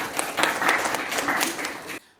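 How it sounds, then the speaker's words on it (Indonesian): A classroom of students applauds in a short, dense burst of clapping that runs for about two seconds and then stops abruptly. "Tepuk tangan untuk kita semua."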